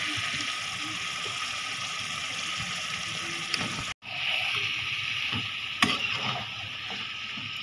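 Beef frying in a spice masala in a pan, a steady broad sizzle and hiss throughout with a brief drop near the middle and a few sharp clinks of stirring.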